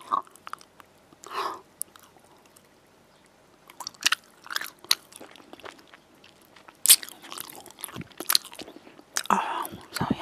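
Close-up biting and chewing of Haribo Creamy Strawbs gummy candy, with sharp crunchy bites and squishy chewing in irregular bursts against a quiet background.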